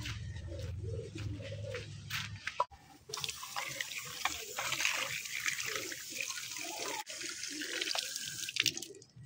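Water runs from a tap and is poured into a drinker for pigeons, a splashing, gurgling flow up close, while the pigeons coo softly nearby.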